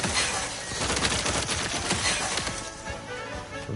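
Rapid bursts of gunfire from a newly acquired weapon in the video game The Outer Worlds 2, a dense, loud crackling volley that runs almost unbroken through the clip and thins slightly toward the end.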